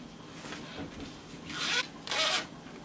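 A front zipper on a freshly sewn circle blouse is pulled in a few short, rasping strokes, close and clear, the last two longest and loudest.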